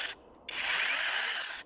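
A brushless electric pole saw's chainsaw runs in a brief burst, a steady high whir lasting about a second after a short blip.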